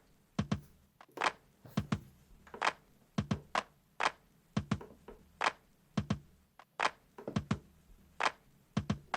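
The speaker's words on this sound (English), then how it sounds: "we have this measly drum break here." Sparse, thin drum break sample played back dry in Maschine, with kick and snare hits in a steady repeating groove, close and isolated with no talk.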